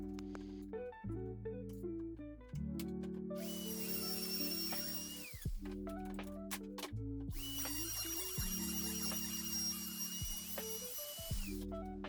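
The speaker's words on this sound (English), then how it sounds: "So I had to do a groove with my router." Handheld router cutting a groove on the underside of a melamine workbench top, guided along a clamped straight-edge scrap; a loud, steady high whine runs for several seconds, drops briefly, then resumes, with tool tones sounding throughout.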